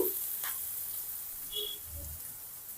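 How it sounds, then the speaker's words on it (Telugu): Onions sautéing in a pan with little oil while pasta is cooked at home, a soft, low sizzle with a few light clinks and stirring touches, quiet and close. "ఆనియన్స్ని చక్కగా మగ్గించుకోవాలి"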